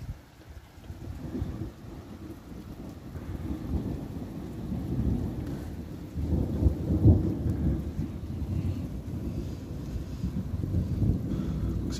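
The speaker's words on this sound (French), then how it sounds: "c'est un orage en fait qui a explosé au-dessus de Tarbes d'un coup" A night thunderstorm breaks over Tarbes, France, in May: deep continuous rolling thunder with steady rain and wind buffeting the microphone, swelling louder after the midpoint, with no voices.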